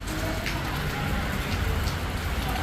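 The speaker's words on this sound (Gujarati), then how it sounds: "જો વરસાદ ચાલુ થઈ ગયો છે." Rain begins falling outside a clinic, a dense, steady hiss of drops on surfaces, close and continuous, with no talking.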